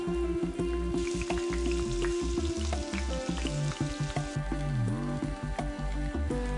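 Chopped onions frying in oil in a pan, with a steady sizzle and crackle close by, broken by repeated clicks and clatters of a utensil moving through the pan.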